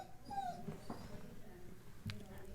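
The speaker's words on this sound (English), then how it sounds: "don't know if you can hear my dog crying" A dog whimpers and cries softly indoors, with a few thin, high whines and brief yips, faint and close in a quiet room.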